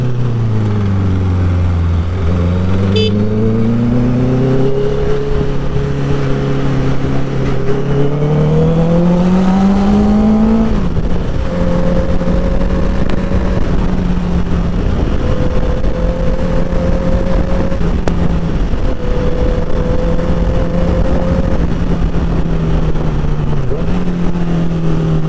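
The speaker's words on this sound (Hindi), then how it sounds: "जो इनलाइन फोर का साउंड है ना, वो सुन के दिल को इतना सुकून मिलता है" A Honda CBR650F inline-four motorcycle engine drones loudly and continuously on the street, pitch rising and settling as it revs through gears, close and steady for the whole stretch with no talking.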